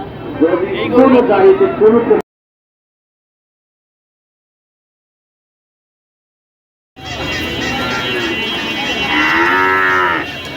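A young bull at a busy cattle market, lowing amid crowd noise and nearby talk, with a silent gap midway before loud market chatter resumes.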